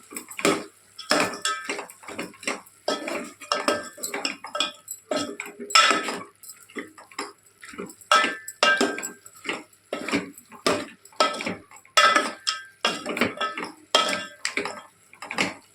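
Repeated metal spoon scraping and clanking against a pan while mutton keema is stirred, a steady busy rhythm of stirring strokes, close and fairly loud with no talking.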